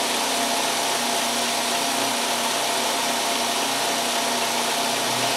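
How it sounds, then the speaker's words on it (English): A homemade 2x72 belt grinder runs steadily with its belt tracking across the wheel, giving a continuous broadband whir with a low hum, close and even throughout, with no voices. "You can see the belt moving across the wheel"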